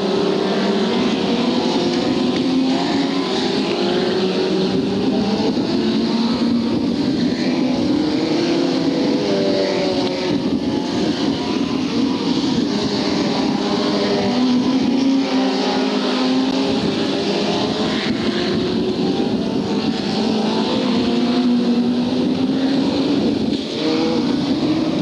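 Formula 2 racing cars roar around the Hartlepool circuit during a 1995 race meeting, several engines droning and rising and falling in pitch as they pass, loud and continuous throughout with no talk.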